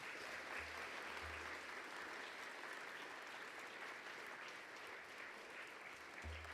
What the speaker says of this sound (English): How about a round of applause for this?